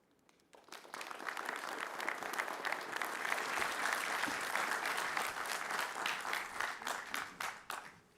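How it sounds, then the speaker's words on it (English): Audience applause at the Qualcomm Investor Day 2026 event, building within a second to a steady, dense clapping that holds for several seconds and thins slightly at the end. "a very big round of applause for Tony"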